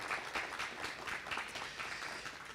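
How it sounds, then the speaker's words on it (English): Applause at a board of education meeting, a steady wash of hand claps from a seated audience, moderately faint and continuous with no talking over it. "Pause for applause."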